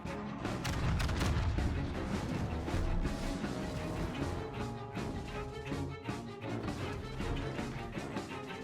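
Yamato battleship main guns firing at long range at a Des Moines cruiser in World of Warships: dense, continuous rumbling booms rolling one into the next, steady and loud, blended with a musical backdrop.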